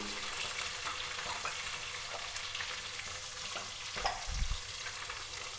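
Spices and onions sizzle and crackle in hot oil as a tempering for a long brinjal curry, a steady frying hiss with a few stirring knocks near the end.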